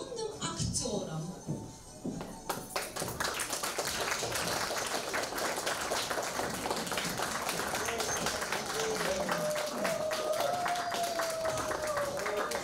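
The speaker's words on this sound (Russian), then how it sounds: "А давайте мы с вами похлопаем нашим юным актерам." A children's audience applauds young school actors after a stage performance, a dense patter of clapping building after a couple of seconds and continuing steadily, with voices talking over it.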